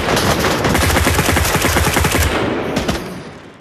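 Rapid automatic gunfire in the VR shooter Onward, a loud dense burst of shots close up for about two and a half seconds, then a few trailing rounds fading out.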